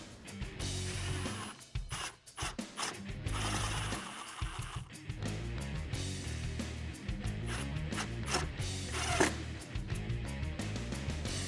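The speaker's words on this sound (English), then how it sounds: "with your 8mm socket, go ahead and tighten it down" A ratchet with an 8mm socket tightening a factory bolt on the cold air intake airbox of a 2015-2021 Dodge Challenger Hellcat, rapid clicking bursts and mechanical rattling, close and fairly quiet with no talking.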